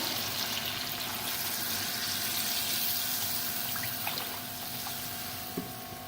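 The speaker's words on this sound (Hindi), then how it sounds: "अब इसमें पानी शामिल करेंगे 3 गिलास तकरीबन।" Water poured into a pot of chicken and chana dal after the masala has been fried, a steady splashing pour with a faint trickle running continuously, close and fairly quiet with no talking.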